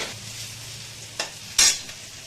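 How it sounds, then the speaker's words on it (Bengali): Potatoes frying in a pan, a steady close sizzle with two sharp scraping stirs near the end. "এই হচ্ছে আমার আলু ভাজা"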